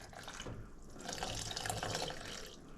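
Cold water poured from a container into a mug of steaming hot coffee, a steady close-up splashing trickle lasting a few seconds without pause, with no talking.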